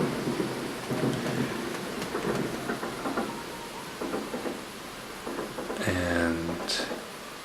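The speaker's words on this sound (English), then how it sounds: "As you can see outside, it just started to rain." Summer rain falls steadily outside, a constant close hiss of drops with a few louder bursts; a brief tonal sound cuts through near the end.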